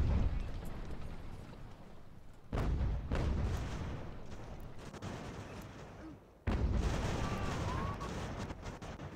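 Cannon volleys fired into an enemy flank in Ultimate General: American Revolution, three sharp booming salvos spaced a few seconds apart, each decaying into a rolling rumble, moderately distant.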